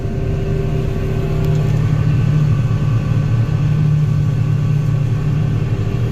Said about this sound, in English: the old 9600 is just a thrashing away into oat